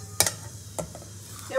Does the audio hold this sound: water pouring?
no